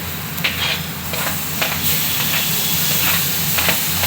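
Tomatoes dropped into beans and carrots frying in oil on a low flame, giving a dense continuous sizzle with soft stirring scrapes and small spatters, loud and close throughout.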